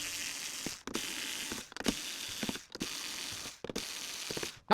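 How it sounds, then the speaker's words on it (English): Powered screwdriver backing small screws out of the cover of a Boatman Vulcan Mini fishing bait boat: several close, steady whirring bursts, each cut by a brief pause as the driver moves to the next screw. "So let's quickly whip these 4 screws out either side."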